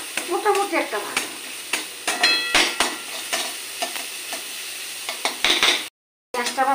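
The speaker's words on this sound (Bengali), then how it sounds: "পেঁয়াজটা আমার ভাজা হয়ে গেছে," Onions stir-fried in a pan for an egg tadka, with close sizzling and repeated sharp scraping strokes of a spatula, a brief gap of silence near the end.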